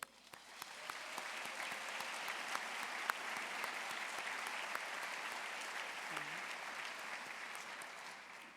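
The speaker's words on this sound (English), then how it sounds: "Please join me in a round of applause for all of our sponsors today." Sustained applause from a large audience at a luncheon, a dense wash of clapping that holds steady throughout, heard from some distance.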